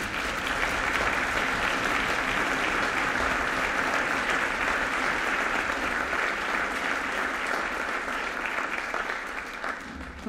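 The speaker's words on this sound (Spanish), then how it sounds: "Un fuerte aplauso nuevamente" A concert audience applauds after a harp concerto with an orchestra, a dense, sustained wash of clapping from many hands that stays loud and even before easing slightly near the end.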